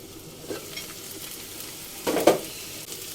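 Bitter gourd and potato bhaji with green chilies is stirred in a pan, a faint steady sizzle broken by a few scraping stirs, with a louder clattering scrape near the end and no voices.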